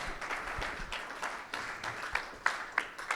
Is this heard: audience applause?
yes